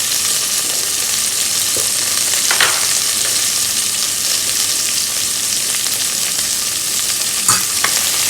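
Ginger and garlic frying in a pan for khichdi, a loud steady sizzle heard up close with a few scrapes of stirring and no voices.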